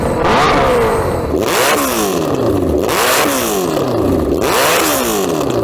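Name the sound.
tuned Suzuki Hayabusa motorcycle revving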